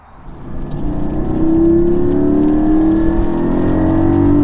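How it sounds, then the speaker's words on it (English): A Porsche Cayman 718 GT4 with a manual gearbox and stock exhaust accelerating on a Scottish B road, its engine note rising steadily and holding loud and close from start to finish. "What about the engine in this car? Well, for a start, it sounds incredible, and this is with a completely stock exhaust."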